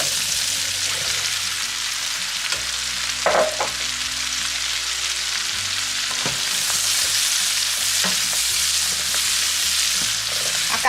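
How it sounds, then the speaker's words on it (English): Vegetables and chicken sausage fry in melted butter and olive oil, giving a loud, steady sizzle that lasts throughout, with a few soft clinks and stirring scrapes close by. "And now let's add in our veggies."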